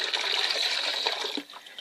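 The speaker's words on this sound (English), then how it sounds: "Now we're just going to take a bucket and a lid. And we're just going to pour it right in it." Homemade walnut stain pours into a bucket in a continuous close splashing stream that tapers off, with a few drips trailing at the end.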